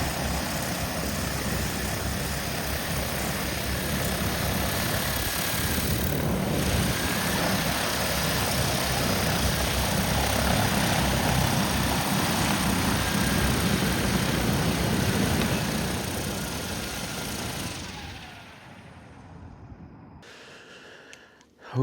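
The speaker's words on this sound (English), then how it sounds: "as you can see, the drone flies really good" A DJI Agras T40 agricultural spraying drone flies with a loud, steady, dense rotor drone and whine that holds for most of the stretch, then fades and drops away near the end.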